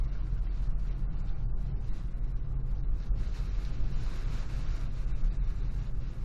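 Constant heavy roaring typhoon wind buffeting a moving vehicle, with a deep rumble underneath, sustained and loud throughout with no pauses.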